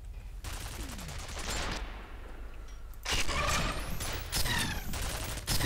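Gunfire in the shooter game FEAR: bursts of rapid automatic shots in two clusters, separated by a brief quieter gap, loud and close, with sharp impacts and debris-like clatter mixed in.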